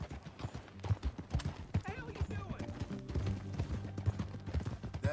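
Horse hooves clip-clop in a steady, close rhythm while riding in the video game Red Dead Redemption 2, with voices talking and background music over the hoofbeats.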